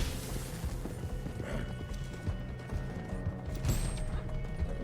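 Horse hooves clip-clop steadily in a video game, a moderate rhythmic patter with occasional heavier knocks over a busy game soundscape.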